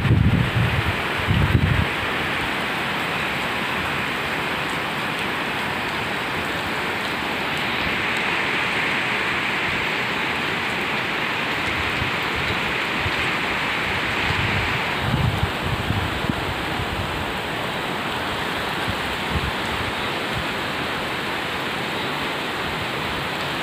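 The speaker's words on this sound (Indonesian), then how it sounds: "hujan dan angin yang agak lebat lah." Steady heavy rain with gusting wind at the Tasek Gelugor train terminal in Penang, a dense continuous hiss with rumbling buffets against the microphone, no voices.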